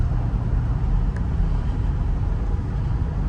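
A 2005 Mercedes-Benz SL500 on its first drive after a Neomax coilover conversion gives a steady, close engine and road drone with broad tyre noise throughout, and no voices.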